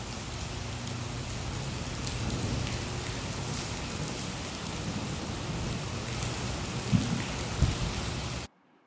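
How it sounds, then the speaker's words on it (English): Steady rain falls outdoors at a campground while a 2019 Chaparral by Coachman travel trailer is hooked to a truck, a constant hiss of drops with a couple of brief knocks near the end before it cuts off. "It is raining."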